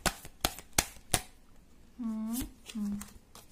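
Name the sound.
shuffling tarot cards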